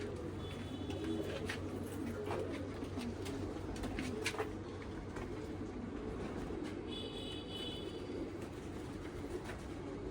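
Jamuni pigeons of a Rampur breed coo softly in a loft, a low steady murmur running the whole stretch with faint chirps from other birds above it and no talking.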